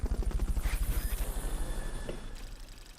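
A helicopter in the video game Metal Gear Solid Peace Walker gives a steady rhythmic rotor thump with engine whine, close and loud, then fades slightly toward the end.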